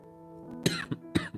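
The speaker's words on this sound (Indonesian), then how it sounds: "Aduh jadi batuk bentar ya" A couple of short, close coughs follow a brief throat-clearing hum, quiet overall.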